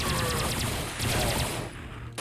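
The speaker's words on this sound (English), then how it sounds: "We're gonna break out the laser cannon because in here there are a lot of Death Knights" A laser cannon fires rapidly at Death Knights in Quake: Scourge of Armagon, a loud run of fast repeated blasts like a machine gun that cuts off near the end.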